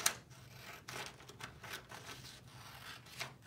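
Paper being cut with a pair of scissors during a children's craft project, a series of short crisp snips and rustles at close range with no voices.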